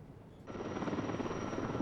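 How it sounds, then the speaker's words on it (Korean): A very large firefighting helicopter approaching, its rotor roar bursting in loud and steady, a dense close thumping drone with a high engine whine that fills the rest of the clip. "굉음을 내며 다가오는 초대형 산불 진화 헬기."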